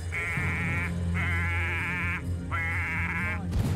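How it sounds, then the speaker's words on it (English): Cartoonish goat bleats from the Payday 2 heist game, three long wavering bleats in a row, loud and close over a steady low game background hum. "They'll be making, uh, goat noises."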